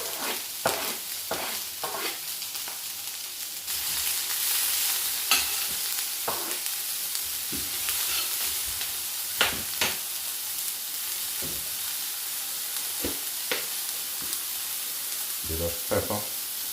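Garlic, ginger and peppers stir-fry in a hot pan, a steady sizzle broken by repeated scraping and tossing strokes, with the frying growing louder partway through.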